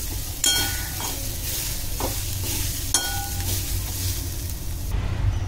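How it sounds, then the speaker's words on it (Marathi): Coriander sautéing in a hot pan for a Malvani-style shark fish curry: a steady, close sizzle with a few sharper scraping stirs and clinks near the start and midway. "त्याच्यामध्ये आपल्याला कोथिंबीर थोडी परतून द्यायची।"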